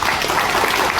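An audience at a Navarathri Golu display event claps in a dense, steady burst of applause that fills the room for a brief moment.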